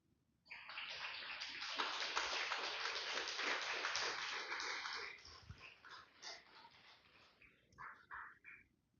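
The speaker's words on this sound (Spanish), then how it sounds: "Déselo fuerte el aplauso, aleluya" Church congregation applauding loudly and continuously for several seconds during a Spanish-language sermon, the clapping then thinning into scattered claps near the end.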